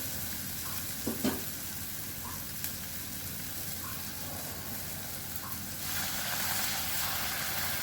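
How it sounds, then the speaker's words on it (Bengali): Spice paste for an egg curry sizzles and fries steadily in a pan, a continuous close crackle with a few soft stirring knocks, growing slightly louder near the end. "মশলা কষানো হয়ে যাচ্ছে"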